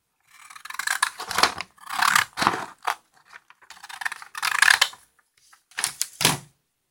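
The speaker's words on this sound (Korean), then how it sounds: "먼저 이렇게 된 거를 이 가위로 잘라주세요" Scissors cut paper for decorating a diary, making several close, crisp bursts of snipping and rustling separated by short pauses.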